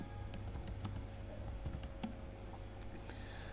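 Python code typed on a computer keyboard as scattered, faint clicks and taps, sparse and irregular, over a steady low hum and background noise, with no speech.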